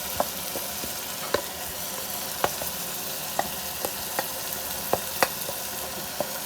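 Spices for keema fry in a pan with a continuous hiss of sizzling oil, broken by scattered sharp pops and spoon taps at irregular intervals, close and steady.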